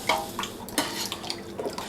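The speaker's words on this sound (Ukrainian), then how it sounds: "Ось так додаємо і розмішуємо." Stirring gelatin into hot water in a pot, with soft scraping swirls and a few light clinks of a utensil against the side, close by and steady.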